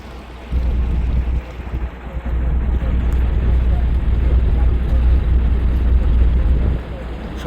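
Boat motoring along a river in the Sundarbans near Sajnekhali, with a loud, steady low engine rumble mixed with wind and water noise, close to the microphone for several seconds.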